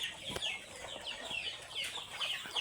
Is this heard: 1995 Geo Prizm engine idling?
no